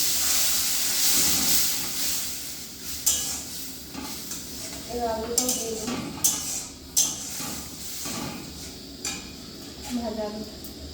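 Water is added to a hot pan of egg potato curry, bringing a hissing sizzle and steam along with stirring and the clink of a utensil against the pan, while a voice talks in the background.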